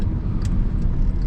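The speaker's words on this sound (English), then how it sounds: "So it's a nice Toyota Supra." Interior rumble of a Toyota Supra on the road, a steady low engine and tire drone with no talk, brief and loud.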